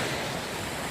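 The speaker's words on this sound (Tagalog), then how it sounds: "medyo maalon dahil nandito na tayo sa dulo" Rough ocean waves wash steadily onto the beach at the far end of Little Boracay in Conception, making a continuous, close, full-bodied surf roar with no speech.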